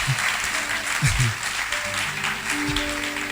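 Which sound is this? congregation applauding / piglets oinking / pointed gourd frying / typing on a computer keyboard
congregation applauding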